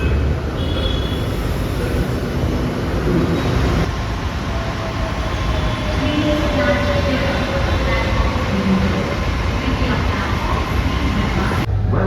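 Mumbai Metro Line 9 train running steadily, a continuous low rumble and rail hum with faint squeals, heard from inside the car for the whole stretch.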